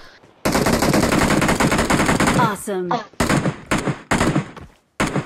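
Automatic gunfire from the game PUBG Mobile bursts loud and close in a long rapid stream, followed by several shorter bursts with brief gaps, while a player speaks briefly.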